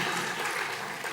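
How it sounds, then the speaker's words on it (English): Audience applause at the Africa Climate Investment Summit 2025 as a CEO arrives: a brief, dense wash of clapping from a crowd, steady and fairly loud throughout. "Please, a round of applause to CEO as he comes."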